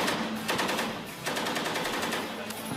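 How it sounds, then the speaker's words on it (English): Navy recruits fire reserve weapons in short and long bursts during rhythm shooting drills, a loud, rapid crackle of automatic gunfire in a steady burst, a brief break near half a second, then more bursts continuing. "So we start them off with trigger control, firing 1 round, 2 round, 3 round. Rhythm shooting, short, long."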